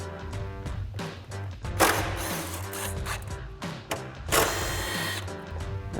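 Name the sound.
removing T30 screws with Torx bit on F-150 fog light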